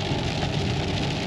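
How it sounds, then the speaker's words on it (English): Rain drums steadily on a car near the Grand Canyon, a dense, loud patter heard from inside along with a low rumble, with no voices. "It's raining."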